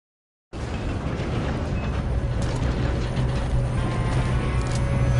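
Steady rumble of train machinery during a train chase in Red Dead Redemption 2, a dense continuous clatter with low churning mechanical rattle and faint ratcheting ticks, loud and constant after a short silent start.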